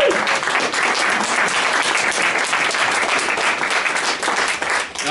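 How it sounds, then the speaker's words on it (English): An audience at a James Connolly Forum talk applauds, with dense, sustained clapping filling the room at a steady loud level before tapering slightly at the end. "I need this guy a round of applause."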